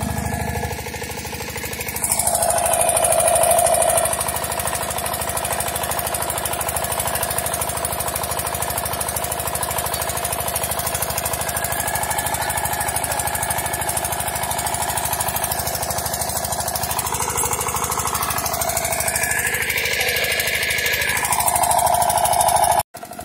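Engine of a new agricultural water pump catches and runs, a loud steady mechanical drone with a changing whine partway through before it cuts out at the end.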